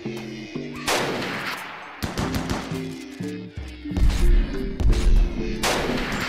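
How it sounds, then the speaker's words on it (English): Gunfire from a precision turret in the colony game RimWorld: several sharp, loud shot bursts spread across the span, with heavy low booms near the end, over a steady game music bed. "It just got shot in the back by that precision turret"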